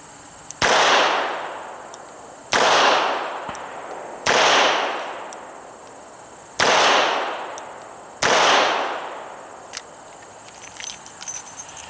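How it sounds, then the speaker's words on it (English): A Smith & Wesson 340 SC .357 five-shot revolver fires light 158-grain lead target reloads at an outdoor range, five loud, sharp reports spaced roughly two seconds apart, each trailing off in a short echo. "Shooting very light target reloads. These are my reloads, 158 grain lead, and they're really just for practice."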